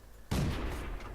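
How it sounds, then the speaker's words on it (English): A tank in World of Tanks, an M22 Locust, fires a high-explosive shell: a single sudden loud blast that cuts in sharply and rolls on with a heavy sustained rumble. "Let's load up some HE and hope that we can penetrate him."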